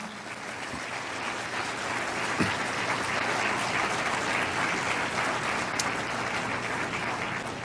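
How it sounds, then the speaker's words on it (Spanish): A church congregation applauds during a sermon, a steady wash of clapping from a large crowd heard from a distance at moderate level, with a few sharper claps standing out. "Y eso merece un aplauso al Señor."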